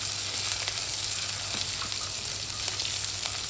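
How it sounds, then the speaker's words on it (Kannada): Mustard seeds, curry leaves and finely chopped green chilies frying in hot oil for a South Indian shavige bath, giving a steady, close sizzle with faint crackles and no talk. "ಸ್ವಲ್ಪ ಕರಿಬೇವು, 1-2 ಹಸಿಮೆಣಸನ್ನು ಸಣ್ಣದಾಗಿ ಕಟ್ ಮಾಡಿ ಹಾಕಿ ಫ್ರೈ ಮಾಡ್ತೀನಿ"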